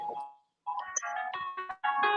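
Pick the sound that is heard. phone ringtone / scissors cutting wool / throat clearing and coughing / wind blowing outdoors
phone ringtone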